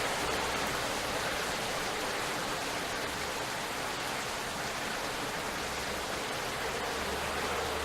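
Loud, steady rain pours throughout a rainy town scene in the video game Rainswept, a dense continuous hiss with a low rumble underneath and no voices.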